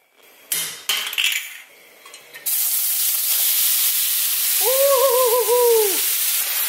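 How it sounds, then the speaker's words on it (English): Frozen pierogies hit hot oil in a pan with a few clanks, then a loud, steady sizzle. A short whooping vocal cry rises over the frying near the end. "Add the pierogies, but beware of oil."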